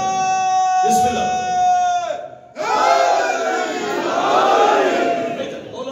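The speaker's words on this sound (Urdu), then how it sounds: "یہاں سے نعرے کی آواز کم از کم نجف تک جائے گا" A large religious gathering shouts a slogan in unison, a loud massed roar that breaks off briefly and then surges back as the crowd chants together, following a single voice calling out.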